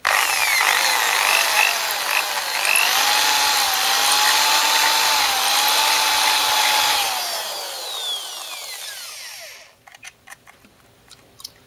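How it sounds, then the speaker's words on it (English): A power drill whines steadily for several seconds while boring a screw hole during an amplifier build, then winds down and stops, leaving a few light clicks and knocks close by; no one speaks. "I've drilled one screw, I'm just going to drill another one."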